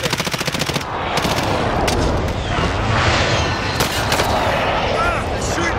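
A rapid machine-gun burst opens the gunfire in Warzone, then dense, continuous shooting and explosive rumble carry on loud and close, with a radio-style voice speaking over it.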